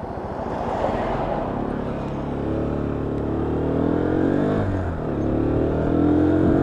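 A Lexmoto Venom 125cc motorcycle rides through traffic, its small single-cylinder engine droning steadily with rising and falling pitch as it changes speed, close and continuous over road and wind noise.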